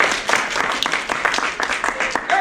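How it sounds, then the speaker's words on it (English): Audience at a live children's mystery show, Amy O'Neil and the Case of the Missing Dolls, bursts into steady, dense clapping that fills the room for a couple of seconds, with scattered voices mixed in. "Clap if you know the kind of girl I'm talking about."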